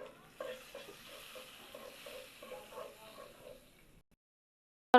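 Turmeric and salt being stirred through hot frying oil, a soft continuous sizzle with light scraping strokes for about four seconds, then silence and a brief sharp knock at the end.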